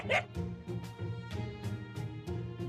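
A dog barks in a run of short yips and woofs in the Fate Grand Order game, repeated at a steady pace over a background music bed.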